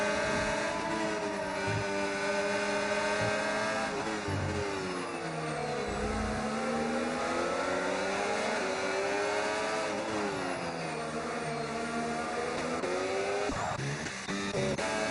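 Ferrari and Aston Martin Formula 1 cars in a sim racing video game, engines whining continuously at high revs with rising and falling pitch as they run nose to tail, loud and sustained throughout.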